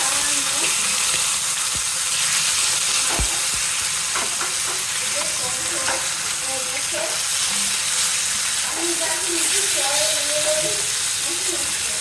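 Fresh pond-raised fish, rubbed with salt, turmeric and chili, sizzling in a pan of hot oil, a steady loud frying hiss throughout with occasional clinks and stirring sounds, and faint talk in the background.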